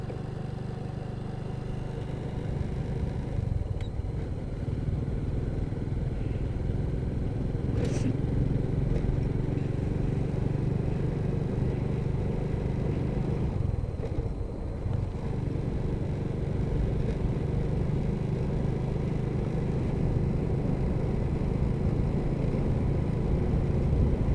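A motorcycle rides fast through a city at night, its engine and wind noise forming a loud, steady rumble heard from the rider's position, with a few brief passing swells and no clear speech.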